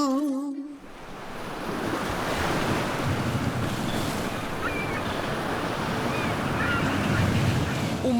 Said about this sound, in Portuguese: as ondas se lançam contra a encosta rochosa